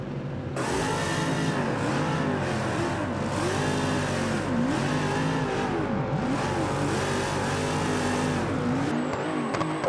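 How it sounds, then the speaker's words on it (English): Simulated Nissan GT-R R35 engine, 2.6-litre, revving hard during street drifting in BeamNG, loud and continuous with rising and falling pitch sweeps throughout, no talking. "Is this the R35 motor? Does sound like it."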